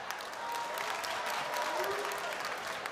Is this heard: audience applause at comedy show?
yes